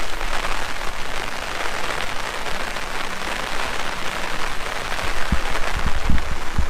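Heavy rain pours steadily in a dense, constant hiss at a riverside park-up in central Brecon, with a few louder drops or knocks near the end.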